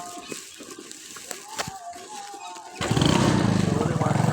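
Motorcycle ride from the back seat, the engine and road noise jumping to a loud, steady roar partway through, after quieter rumbling with a few knocks.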